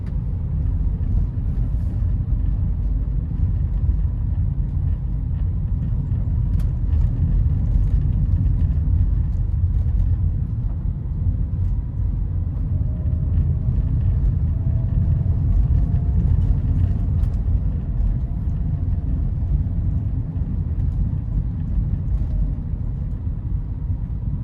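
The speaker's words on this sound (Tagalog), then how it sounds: "engine sound." A Toyota Vios rolling downhill near Landing Point in Rizal, its engine a steady low rumble with constant road noise heard from inside the car, unbroken for the whole stretch.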